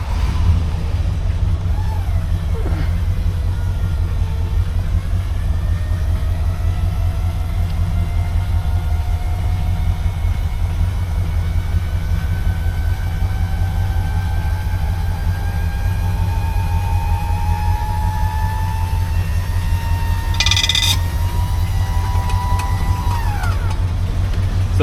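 The power convertible top on a brown 1970 Buick Electra 225 is raised, giving a long steady electric motor whine that climbs slowly in pitch over a low idle rumble and ends in a brief clunk as it latches.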